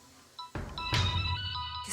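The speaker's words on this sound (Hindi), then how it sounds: "किसका फोन है?" A phone ringtone chimes in bright repeated electronic tones, starting after a short quiet gap, with a thump and rustle as it begins, clear and close with no talk.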